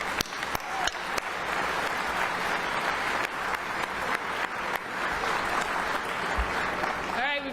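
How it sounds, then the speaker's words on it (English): A crowd at a corporate investment announcement event claps in a full, sustained round of applause, dense and loud, with a brief voice or noise appearing near the end. "Give yourselves a round of applause."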